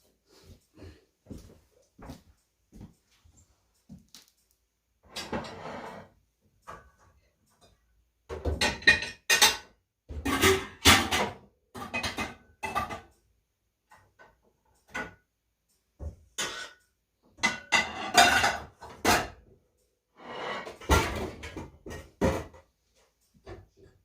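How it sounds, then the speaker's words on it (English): Metal pots and pans clanking and clinking as a skillet is pulled out from among them in a kitchen, with scattered quiet knocks followed by louder clustered rattles in bursts. "Now I'm going to get my skillet."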